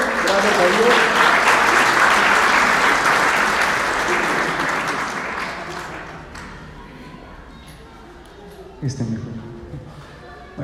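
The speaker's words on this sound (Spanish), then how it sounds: "Vamos a dar un fuerte aplauso." Loud, dense applause from a crowd fills the first half and gradually fades away, followed by a brief voice near the end.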